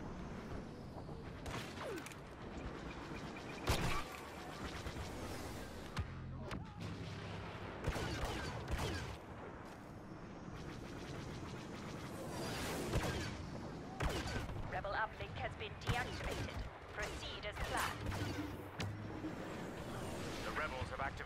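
Star Wars video game battle gunfire, repeated blaster shots and heavier cannon-like blasts with mechanical effects, mixed with game sounds, and a player talking throughout.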